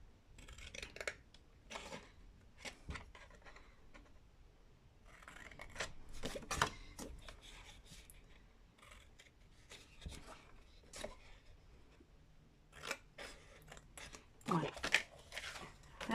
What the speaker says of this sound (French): on découpe.